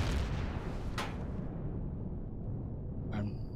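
A cannon fires in the sci-fi survival game Empyrion Galactic Survival, two sharp blasts about two seconds apart over a steady rumbling background, with the second one trailing a brief ringing tone.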